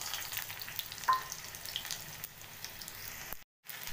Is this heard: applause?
no